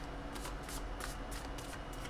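Tarot cards being shuffled by hand, a series of rapid riffling bursts in an even rhythm, close and soft with no talk.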